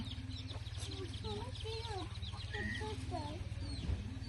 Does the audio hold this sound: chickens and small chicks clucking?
yes